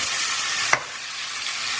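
Chicken and spinach curry with garam masala sizzles loudly and steadily in a pan. One brief scrape of a stirring spoon sounds partway through, then the frying hiss carries on.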